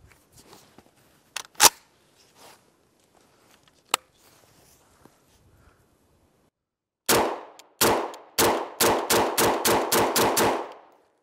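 A Kalashnikov SR1 (AK107) rifle firing at a range: a few scattered single shots and clanks early on, then a pause, then a rapid string of about ten loud, sharp shots in quick succession, close by.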